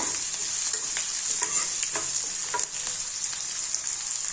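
Onions fry in a pan, giving a steady, bright sizzling hiss with soft intermittent stirring scrapes, close and continuous with no speech.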